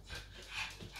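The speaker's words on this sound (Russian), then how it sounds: "Вот это бешеная собака." An excitable dog pants indoors at home, a quick, soft, breathy rhythm that stays faint and close throughout the short stretch.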